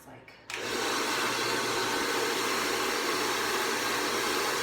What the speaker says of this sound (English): I'm gonna do my full hair with the One Step hair dryer so that you can see what my hair looks like.